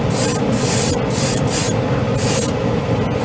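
Mr. Hobby Aqueous acrylic paint sprayed through an airbrush in a coat over a model part, four or five hissing bursts of spray over a steady compressor hum, close and loud, no talk.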